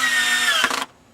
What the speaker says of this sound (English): I've drilled a pilot hole.